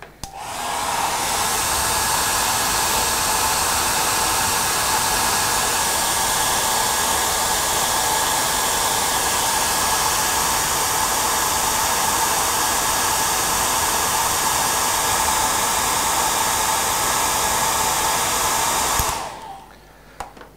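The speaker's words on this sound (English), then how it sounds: "Now I'll use my hair dryer and I'm going to dry it." A hair dryer runs steadily to dry paint on a canvas, a constant loud whirring blow that holds for nearly twenty seconds before cutting off abruptly.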